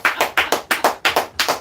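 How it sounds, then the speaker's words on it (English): A single person claps hands in a slow, even rhythm, about ten crisp claps close to the listener, with no other sound around them. "I'm just gonna clap to you"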